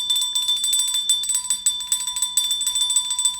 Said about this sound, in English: This is going to be a long bell ring